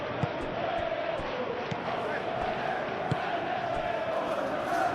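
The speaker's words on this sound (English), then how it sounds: "the crowd are reacting to that now" Steady roar of a stadium crowd in the eFootball PES 2021 football game, a constant dense wash of voices with occasional louder swells, continuous throughout.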